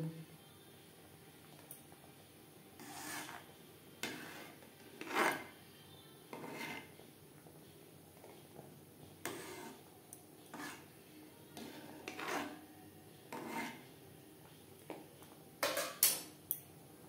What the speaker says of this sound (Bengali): এই পর্যায়ে ডালের ফেনা পরিষ্কার করে নেব